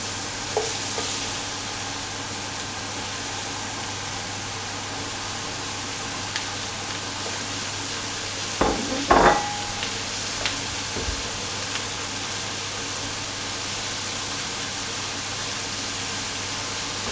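Carrots and onions fry in rendered lamb fat for an Irish stew, a soft steady sizzle throughout, broken near the middle by a few louder clanks and stirring scrapes in the pan.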